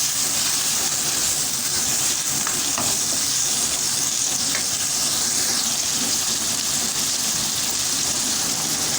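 Meatballs with peas and cooked carrots being stirred in a hot pan, a steady loud sizzle and frying hiss throughout with soft scraping of the spoon, no talking.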